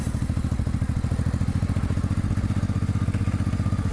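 A motorcycle engine runs steadily just after starting off at a German roadside parking area, its even rapid low-pitched pulsing close and loud with no talk.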